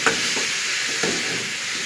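Spice masala for katla fish sizzles in a pan as it is stirred, a constant close frying hiss with two soft scraping strokes about a second apart.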